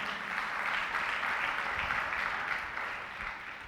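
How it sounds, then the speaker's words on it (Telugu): A congregation at a Sunday worship service in an evangelical church applauds together, a steady, fairly soft wash of clapping that holds evenly and tapers a little at the end. "చప్పట్లు కొడతాం దేవునికి."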